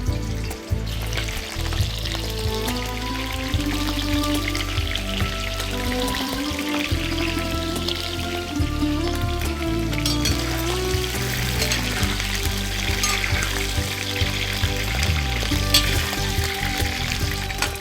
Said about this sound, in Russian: Мясо надо довольно глубоко обжарить.